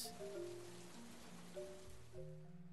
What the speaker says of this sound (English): It rains and rains